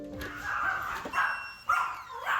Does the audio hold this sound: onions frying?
no